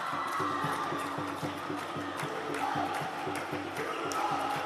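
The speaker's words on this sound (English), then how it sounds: "The home crowd is jubilant." A home crowd roars and cheers nonstop at a badminton championship match, a dense, loud wash of voices with scattered whoops, steady throughout.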